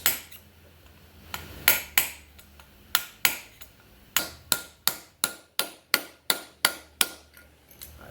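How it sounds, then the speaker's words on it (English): A hammer strikes a blunt chisel against an engine wrist pin on a 2008 Honda 400EX in sharp, ringing metal taps, a few scattered at first, then a steady run of about a dozen evenly spaced blows. "we're just going to take a little blunt chisel and a hammer and give it a few love taps"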